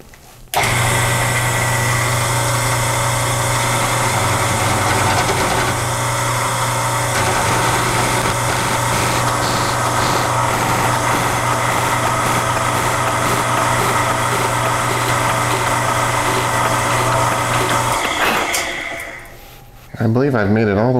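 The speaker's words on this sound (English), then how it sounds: "I've got the drill press set up on low speed, and I'm going to give this a go" A drill press running at low speed bores a hole through a spool, producing a steady, loud mechanical drone with constant motor hum for about eighteen seconds before spinning down, followed by a brief clatter.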